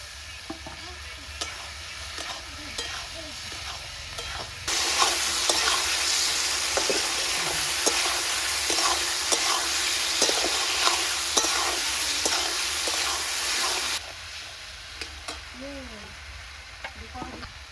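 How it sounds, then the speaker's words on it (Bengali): Marinated mutton fries in a pan, a hissing sizzle that swells loud in the middle section, with repeated scraping and clinking strokes of a spoon stirring the meat throughout. "লবণ ম্যারিনেট করা মাংসটা আমি দিয়ে দেবো ভালো করে কষাবো"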